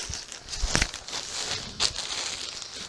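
A plastic bag crinkles steadily around toy train engines, a close, continuous rustle with a few sharper crackles and no talk.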